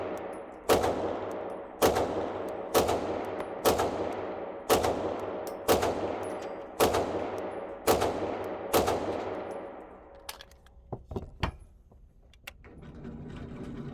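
Archon Type B pistol fired in a long, evenly spaced string of sharp, loud shots, about nine in steady rhythm, then a few scattered cracks and handling clatter near the end.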